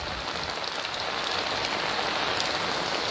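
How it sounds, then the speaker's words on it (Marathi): Heavy monsoon rain pours steadily over the Marathwada region of Maharashtra, a dense, continuous hiss of drops striking surfaces that stays loud and unbroken throughout, with no voices. "अशा प्रकारे ठिकठिकाणी पाऊस सुरू आहे."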